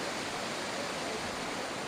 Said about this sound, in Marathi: दिसत असेल आपल्याला तर हा सुंदर धबधबा